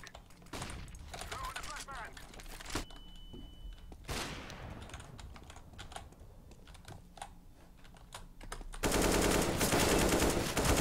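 Bursts of rapid gunfire in the video game CS:GO mix with loud keyboard clatter, ending in a sustained, dense volley, while a player talks.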